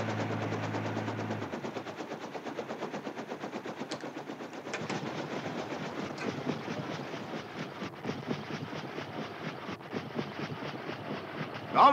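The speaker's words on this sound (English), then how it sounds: "we just passed a train" A train passes close by, its wheels beating a steady, rapid clickety-clack that stays loud and dense throughout, with no talking.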